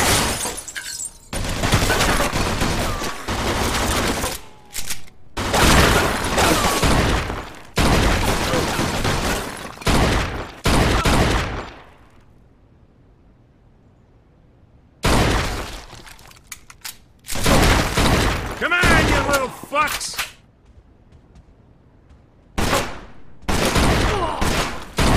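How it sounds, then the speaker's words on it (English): Gunfire in the video game Mafia 2 comes in dense, loud bursts of rapid shots with shattering debris, broken by a few quieter gaps. "They shoot from our top!"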